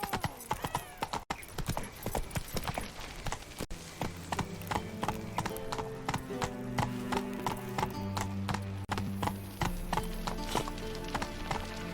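Horse hooves from The Witcher 3 video game, a close, rapid rhythmic clip-clop of galloping that picks up and settles into a steady gait, with tonal game music beneath.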